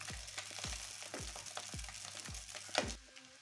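Chowmein with egg being stir-fried in a pan at home, with a steady frying sizzle and about six rhythmic scraping strokes of a spatula, followed by a sharp clatter near the end.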